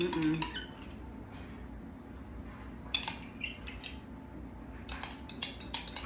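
A spoon scrapes and clinks against a baking dish while spreading jam topping over an oatmeal bake, in several short bursts separated by quieter pauses, close by.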